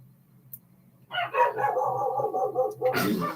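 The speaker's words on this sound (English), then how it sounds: "Sorry, doggy barking." A dog barks in a quick, fairly close run of several barks that starts abruptly after a quiet moment and continues to the end.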